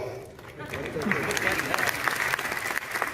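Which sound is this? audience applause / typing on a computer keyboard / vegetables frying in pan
audience applause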